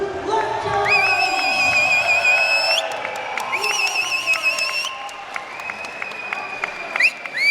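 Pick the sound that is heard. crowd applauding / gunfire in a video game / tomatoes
crowd applauding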